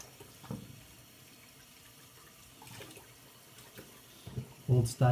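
Water runs from a tap while a face is rinsed at a sink, a faint steady flow with louder splashing near the end, and someone talks softly at times.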